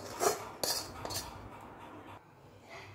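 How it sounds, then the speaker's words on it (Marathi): Puran filling is stirred in a kadai over low heat, with a spoon scraping and clinking against the metal in several close strokes over a soft background hiss. "बारीक गॅस करूनच आपल्याला पुरण हे हलवून घ्यायचं असतं"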